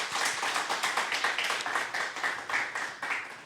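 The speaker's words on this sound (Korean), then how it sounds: "우리 박수로 환영하겠습니다." A small congregation at a Sunday church service claps in welcome of guests, producing distinct hand claps that fall in a quick, uneven rhythm for several seconds.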